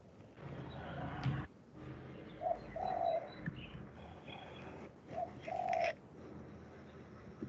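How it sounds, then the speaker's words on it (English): Bird outside a window, giving soft repeated cooing calls in two spaced phrases, fairly near but moderate in level over room noise and faint background sounds. "there's the bird chirping outside"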